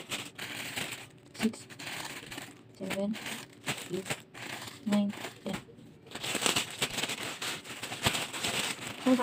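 A plastic package holding mini tote bags is torn open and crinkled in short bursts of rustling and crackling, close to the microphone, while a person talks throughout.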